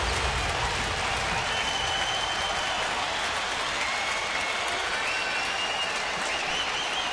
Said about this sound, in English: Now this crowd is up, trying to help the Astros snap their 6-game losing streak.